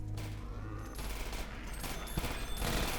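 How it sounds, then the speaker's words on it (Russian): Gunfire in Half-Life 2 Episode 1, a dense, muffled clatter of rapid shots echoing through an underground city passage, continuous and moderately loud, with heavier bursts toward the end. "Осторожнее, я слышу стрельбу."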